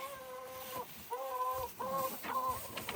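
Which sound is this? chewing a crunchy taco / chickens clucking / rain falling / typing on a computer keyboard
chickens clucking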